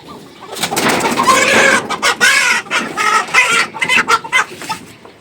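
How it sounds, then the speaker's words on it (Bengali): Several small young chickens on a rooftop garden cluck loudly and close by in busy, overlapping bursts, with a few sharper squawks mixed in. "আমার পালন করা কিছু মুরগি"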